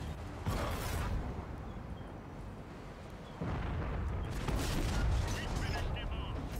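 Tank cannon blasts and heavy impacts in World of Tanks console play, two booming bursts with rumbling mechanical tails, loud and close, under game noise with a voice talking over them.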